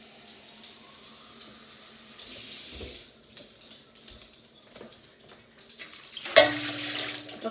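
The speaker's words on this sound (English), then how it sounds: "Let's get some water in here." Water from a tap runs into a canner being filled for canning chili beans, a steady close splashing flow that swells and changes pitch, with a brief clunk and a rising gurgle near the end.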